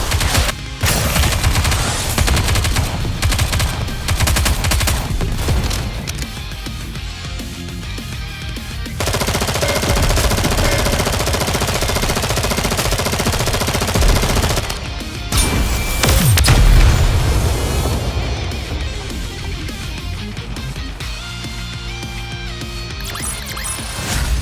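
Sustained rapid gunfire from Nikke: Goddess of Victory battle, dense machine-gun bursts and explosions layered over game music, loud and continuous with brief pauses.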